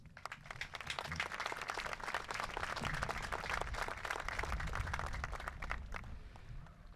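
Crowd at a high school graduation ceremony applauds teachers and families, many sharp claps forming a steady, moderately loud burst that swells in the middle and tapers off toward the close.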